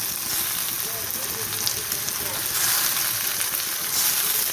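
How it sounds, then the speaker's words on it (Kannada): Tomato hits a pan of browned onions for a beetroot stir-fry, setting off a loud, dense, continuous sizzle that stays close and even throughout, with faint stirring beneath. "ಇವಾಗ ಟೊಮೆಟೊ ಹಾಕ್ತಾಯಿದ್ದೀನಿ"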